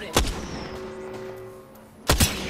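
Two sharp gunshot bursts in a multiplayer squad shooter game, one near the start and another about two seconds later, loud and close over a quiet low background hum.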